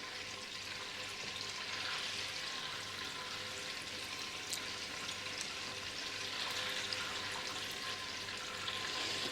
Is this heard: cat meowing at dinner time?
no